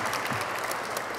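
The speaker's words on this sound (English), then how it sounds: "round of applause, round of applause" An audience at a city town hall breaks into loud, steady applause, dense clapping from many hands filling the room without a break.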